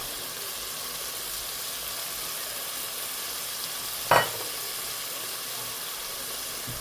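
Masala, green onion and tomato frying in a pan, a steady close sizzle and hiss throughout with one brief clatter of stirring partway through.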